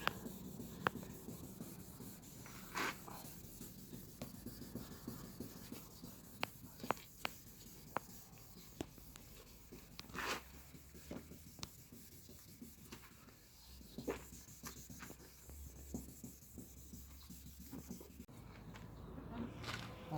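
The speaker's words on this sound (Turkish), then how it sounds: "1500 zımparaya geçtik. Zımparalamalara devam ediyoruz." Fine 1500-grit sandpaper rubs in quick, scratchy strokes against a plastic car headlight lens, close and fairly quiet, with irregular light taps between passes.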